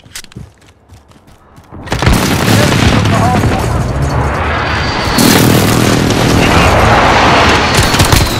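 Heavy airstrike explosions boom and rumble through a Call of Duty Modern Warfare match, a quiet opening giving way at two seconds to a sustained loud wall of blasts and gunfire that surges again midway, with no talk.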